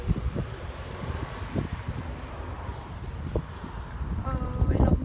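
Wind rushes over a microphone at the seaside in New Haven, a steady low blustery roar with gusts that build toward the end, alone without talk.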